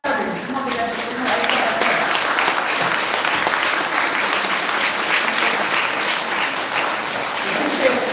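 Audience applause at a college seminar in a government arts college for women, dense sustained clapping from a large crowd filling the hall at an even level throughout, with a voice faintly audible beneath it.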